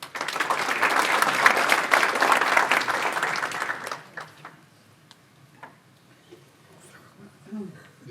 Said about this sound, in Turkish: Alkışlarımızla.